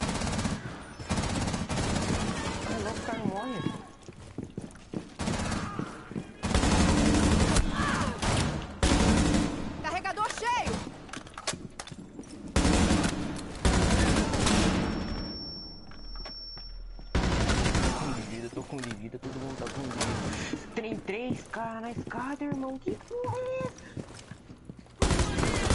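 Rapid bursts of automatic gunfire from a Rainbow Six Siege ranked match on PS4, loud and close, come in repeated volleys separated by short pauses, with voices talking between and over the shots.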